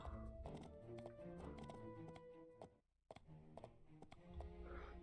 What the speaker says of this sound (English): bet you've never seen a horse walk on the wall like that